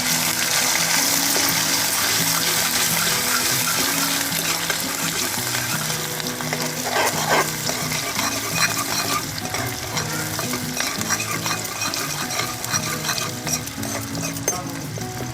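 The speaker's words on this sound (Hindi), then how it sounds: "प्याज को अच्छे से भुनने देंगे।" Onions sizzle steadily in a hot pan with oil, a dense continuous frying hiss broken by frequent scraping stirs of a spoon, close and loud, with no voices.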